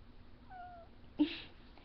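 A cat gives one short, thin meow nearby, followed by a brief sharp noisy burst.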